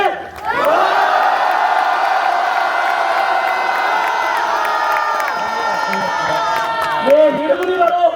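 A rally crowd at an election protest outside an election commission office shouts a slogan in unison, one big sustained collective roar that swells, holds loudly for several seconds, then breaks into scattered cheers and whoops.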